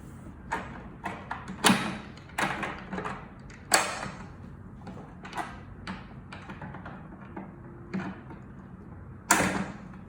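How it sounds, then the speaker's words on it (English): A HAWA Telescopic 80/2 sliding door suspension is fitted into its bracket, giving a close series of irregular sharp clicks, knocks and light metallic thuds with short pauses between them. "we can insert the suspension into the bracket from"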